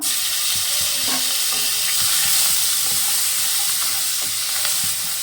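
Onion paste fries in a pan, a steady close sizzle broken by repeated scraping stirs of a spoon or spatula, with no voices over it.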